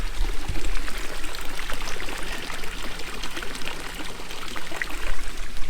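Water from a teed-off garden water feature with two valves trickles and splashes steadily into a pond, a continuous close bubbling wash with no voices over it.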